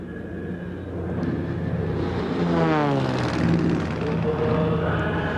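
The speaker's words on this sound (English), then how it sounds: "we got some thunder all right, and it came right out of the sun, courtesy of Julie Clark, one of the top female aerobatic pilots in all the world" An aerobatic airplane roars low over a drag strip at a 1990 NHRA national event, swelling from a steady drone to a loud passing sweep with a falling Doppler pitch, then lingering as a broad engine rumble.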